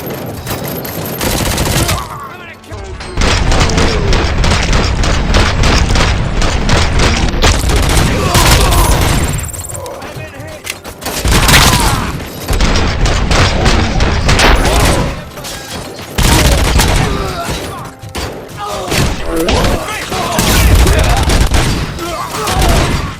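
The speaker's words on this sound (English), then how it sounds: "Covering fire!" Heavy gunfire and booming blasts in the video game Robocop Rogue City on PS5, sustained loud volleys of rapid shots broken by a few brief lulls, with shouted voices mixed in.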